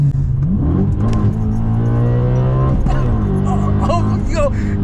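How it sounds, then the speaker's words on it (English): Audi RS4 B7 with a Stage 2 tuned V8 revving loudly and close, rising and falling through several sustained pulls, with people talking over it. "Oh my God, that V8 sounds amazing."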